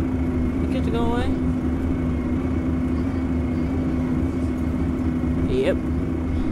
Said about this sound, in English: Wow, this thing's louder than the other buses.